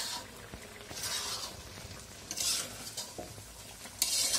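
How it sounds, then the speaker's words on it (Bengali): Chicken curry frying in a pan while being stirred: a soft continuous sizzle broken by scraping and stirring bursts and a sharp utensil clink near the end, with no voices. "এখন নেড়ে চেড়ে হালকা আছে ভুনা করতে হবে"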